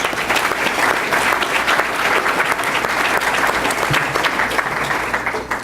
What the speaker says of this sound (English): So let's give all of our panelists a round of applause.